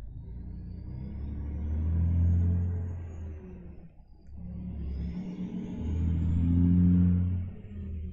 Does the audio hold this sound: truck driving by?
yes